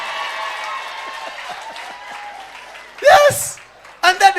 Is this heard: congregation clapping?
yes